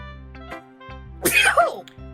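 A person sneezes once, loud and close, with a sharp burst and noisy exhale, set against a steady background music bed with rhythmic tones.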